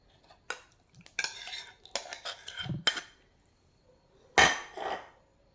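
Soaked ground rice and fenugreek paste is stirred in a bowl with a utensil, giving scattered clinks and scrapes against the bowl in irregular bursts, close and quiet with pauses between strokes.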